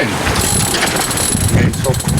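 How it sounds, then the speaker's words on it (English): A flapping sail being hauled in on a sailboat: loud, continuous rustling and fluttering canvas with rattling rigging and wind buffeting, close up, with someone talking over it. "I'm going to bring this flapping sail in."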